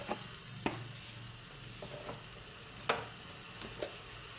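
Spice paste with salt and turmeric stir-fried in a pan, a soft steady sizzle with a few sharp scrapes and clicks of the stirring spoon, close and fairly quiet, with no talking.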